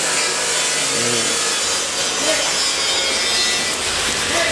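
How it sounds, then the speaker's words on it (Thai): Rust is scrubbed off a metal smokeless grill stove in a continuous, loud abrasive rasp close by, with brief voices underneath. "กำลังทำความสะอาดขัดถูพวกสนิมออกจากเตาก่อนนะฮะ"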